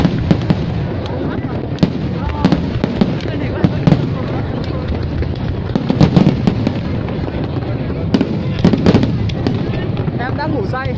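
Fireworks display over Da Nang, with repeated booming bursts and crackling pops scattered across the clip, some close and sharp, others overlapping amid crowd noise and voices in the background.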